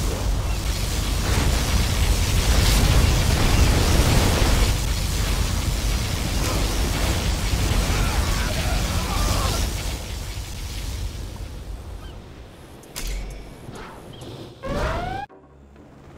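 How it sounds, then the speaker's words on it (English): A particle cannon superweapon strike in C&C Generals Zero Hour brings a long, loud rumbling blast that roars for about ten seconds, then fades into scattered booms and a rising electronic tone. "Particle cannon activated."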